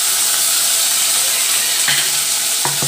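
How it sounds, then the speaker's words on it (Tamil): Ginger garlic paste sizzles steadily in hot oil in a pan for a gourd gravy, a loud continuous hiss with a few clinks of a spoon stirring near the end. "இப்போ வந்து 2 நிமிஷம் நல்லா இந்த எண்ணெயிலேயே நல்லா வதக்கிக்கலாம்"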